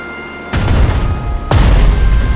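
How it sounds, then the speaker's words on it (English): Two heavy artillery explosions from the Strategic Mind: Spirit of Liberty strategy game, each a deep booming impact with a rumbling tail, the second about a second after the first and slightly louder. "Finnish artillery reporting."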